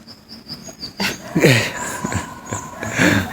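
A dog whimpers and whines in short high bursts near a tent at a campsite, with faint insect chirping in the background.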